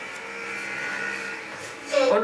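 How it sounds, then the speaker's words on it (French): A motorcycle passes outside, a steady muffled engine drone heard from indoors, with a voice starting up close at the end. "On entend une moto dehors, vous avez entendu? La moto?"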